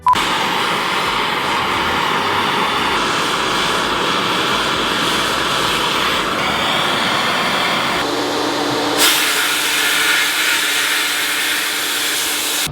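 A loud engine roars steadily with no pauses, its pitch and tone shifting partway through as it revs higher, dense and close throughout.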